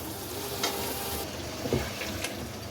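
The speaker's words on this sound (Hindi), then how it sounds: "और दही को भी इसमें भून लें" Yogurt and spices frying in a pan for kofta biryani, a steady soft sizzle with a few stirring scrapes and clinks, close and moderately quiet with no talk.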